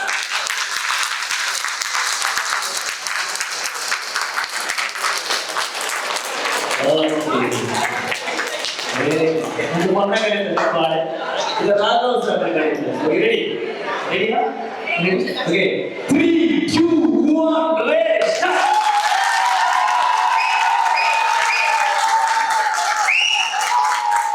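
A crowd claps steadily for a long stretch at an engagement ceremony, dense applause with a burst of voices talking over it midway before clapping swells again.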